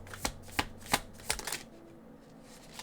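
Tarot cards being shuffled and drawn, four or five quick crisp riffling bursts close by, then the shuffling stops and a quieter rustle trails off.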